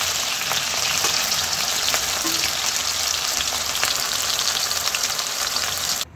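Vegetables, including potatoes, fry in hot oil in a pan, giving a steady, close, dense sizzle that runs unbroken for about six seconds before cutting off abruptly.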